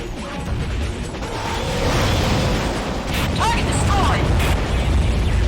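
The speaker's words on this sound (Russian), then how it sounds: "Точно, Гатлинг может сразу 3 выстрелами стрелять." Gatling gun fire from the underwater game AquaNox as a dense, continuous mechanical rattle with pops and bursts over steady game noise, without any talk.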